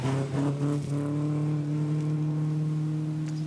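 A DAF 66 Marathon rally car drives a special stage of the Spa Rally, its engine holding a steady, droning tone with strong harmonics, fairly close and continuous with no talk.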